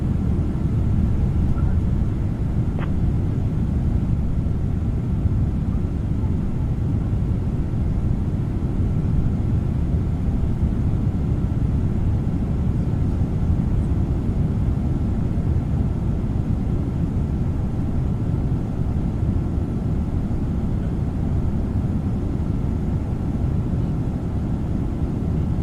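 A medical transport aircraft on approach to Las Vegas drones steadily in flight, a loud, constant low-frequency cabin roar with no breaks, as heard from inside.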